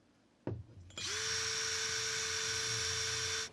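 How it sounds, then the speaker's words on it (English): An electric drill fitted with a wire brush spins up after a sharp knock and runs steadily at high speed, scrubbing corroded metal boat fittings with a loud, continuous whine and hiss before cutting off. "with just a little wire brushing and a drill"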